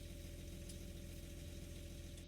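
Tractor engine idling in the Farming Simulator 19 video game, a steady low rumble with a regular throb that holds constant and alone, with no voices, for the whole stretch.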